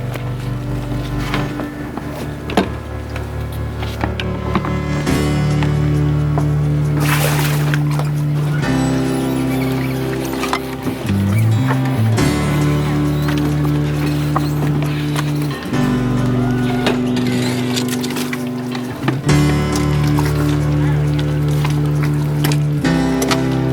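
A boat engine idling after its carburetor was cleaned, a loud steady drone with shifting tonal pitch and a few brief surges, close to the microphone with wind noise over it.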